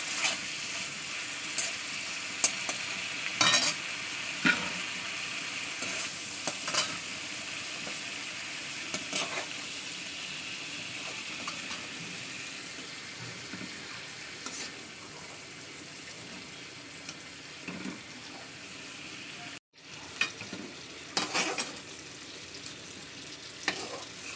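Shrimp sizzle steadily in hot oil with caramelised sugar, a soft continuous frying hiss broken by occasional sharp spatters and stirring knocks, with a brief cut near the end.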